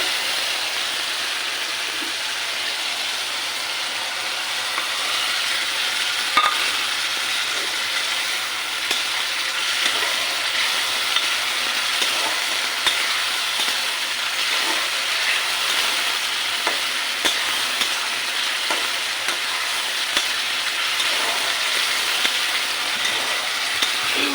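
An egg is added to spiced masala already frying in oil and stirred in. A loud, continuous sizzle carries on throughout, with faint ticking stirs from the spoon.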